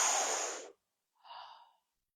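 Two deep breaths during a guided exercise session: a long, airy exhale fading out, then after a short pause a softer, shorter breath, both close and quiet with no talk.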